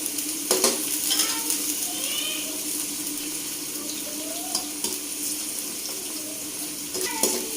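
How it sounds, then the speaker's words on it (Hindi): Okra frying in a pan gives a steady, close sizzle and hiss, broken by a few clinks and stirring scrapes, with no voices. "ये भिंडियाँ फ्राई होती हैं"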